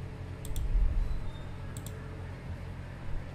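A computer mouse double-clicks twice, two pairs of sharp, quick taps spaced about a second apart, close and crisp over a faint low room hum during a Windows software install.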